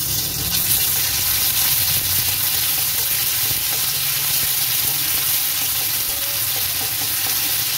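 Garlic paste hits hot oil in a pan, giving a loud, even sizzle that holds steady throughout, with a little stirring underneath.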